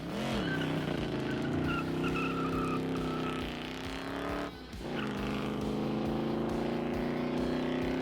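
A 1960s muscle car with a 306-horsepower engine and a 138 mph top speed roars loudly and steadily, its revs climbing then holding, dipping briefly before surging back to a full sustained growl.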